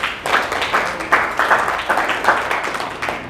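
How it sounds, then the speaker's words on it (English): Applause from an audience at a conference event, a sparse patter of clapping with distinct rhythmic bursts roughly every third of a second, moderately loud and close, with no voices over it. "So a round of applause for yourselves."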